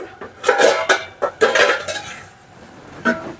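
A metal lid clanks onto a cooking pan of drumstick flowers with poppy seeds, with several close clattering knocks and clinks, then a final lighter tap after a short pause.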